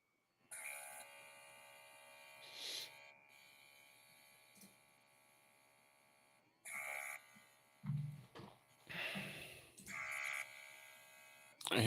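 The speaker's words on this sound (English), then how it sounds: "I hear the little buzzer." A little buzzer goes off during a live airbrush painting session, giving a faint, steady electronic buzz with a few short louder bursts.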